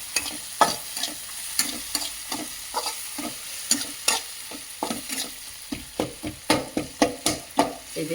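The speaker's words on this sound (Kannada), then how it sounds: "ಒಂದು ಸ್ಪೂನಿನ ಸಹಾಯದಿಂದ ಇದನ್ನು ತಿರುಗಿಸ್ತಾ ಇರಬೇಕು" A spoon stirs a tempering in a hot pan, scraping in a steady rhythm of distinct strokes over a soft sizzle of frying oil, close and clear with no talking.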